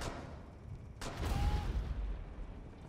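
A grenade explodes during a Rainbow Six Siege match: a sharp, loud burst followed by a low, rumbling tail that lingers for more than a second.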